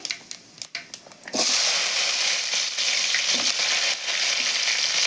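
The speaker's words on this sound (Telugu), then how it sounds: "నేను ఉల్లిగడ్డ ముక్కలు వేస్తున్నాను." Small chopped onion pieces dropped into hot oil while making capsicum masala curry: a few light clicks, then a sudden loud sizzle that continues steadily with faint stirring.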